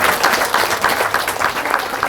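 A crowd at the Monsoon Regatta 2023 prize distribution ceremony applauds the organizers with loud, dense, continuous clapping that fills the room with no voices over it.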